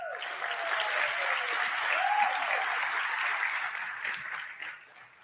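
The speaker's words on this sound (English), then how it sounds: "let's just give them a round of applause real quick" A banquet crowd gives a quick round of applause for future educators at an awards dinner, steady clapping of moderate loudness that thins and tapers off at the end.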